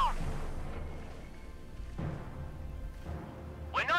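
Walking Stuka rocket artillery firing in Company of Heroes 3, a few deep booming launches and rumbles spaced through a battle scene, fairly distant and not loud.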